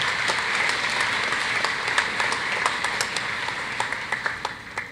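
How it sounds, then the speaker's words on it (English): Commencement ceremony audience applauding the stage party, a broad sustained roar of many people clapping that thins slightly toward the end, leaving a few distinct claps. "A round of applause, please, for our stage party."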